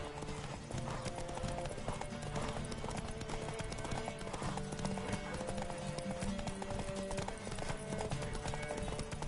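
Horse hooves clatter in a quick, steady galloping rhythm in the video game The Witcher 3: Wild Hunt, loud and close, carrying on continuously with a busy layer of other sound beneath.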